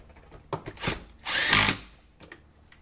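A power drill drives screws while a JBL speaker is installed in a 2023 Toyota RAV4 TRD Pro, with a few short clicks and handling knocks before one brief, loud whirring burst up close.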